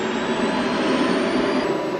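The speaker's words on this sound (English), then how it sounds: "The engine noise is so loud, it's the only way they can hear each other." Helicopter engine noise, a steady loud droning roar with a whining high tone above it, constant and close throughout, no voices heard.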